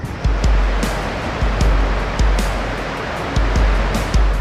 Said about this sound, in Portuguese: Elas transformaram o rio Nolichucky em uma massa turbulenta de água.